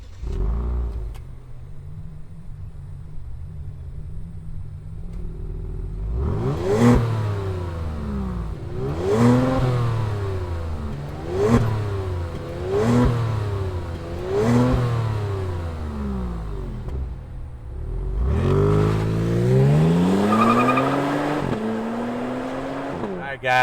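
A 2022 Genesis G70 in sport prestige trim with a twin-turbocharged V6 starts up with a low idle, then gives about five sharp, evenly spaced revs that swell and fall, followed by a longer rising rev, all loud and close.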